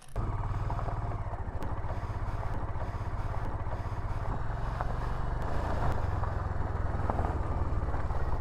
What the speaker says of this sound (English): put my gear on the bike to head off